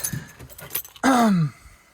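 A short burst of metal keys jangling near a lifted 1972 GMC Jimmy K5 Blazer, a brief close rattle followed by a louder scrape-like groan, with faint handling noise beforehand.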